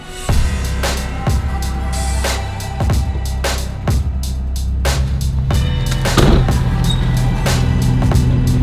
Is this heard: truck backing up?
yes